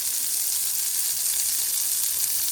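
A Beyond Burger patty sizzles in hot oil in a pan, a steady bright hiss of frying that stays loud and even throughout, with no voices.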